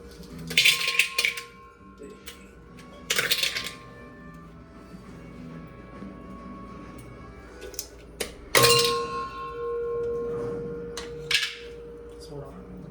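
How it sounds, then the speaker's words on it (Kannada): Ice cubes dropped into a glass while preparing a homemade mocktail, several sharp clinks and rattles in short bursts spaced across the clip, with quieter clatter between and a voice talking in the background. "ಈಗ ಫಸ್ಟ್ ನಾವು ಐಸ್ ಹಾಕೊಂಡ್ರಿ"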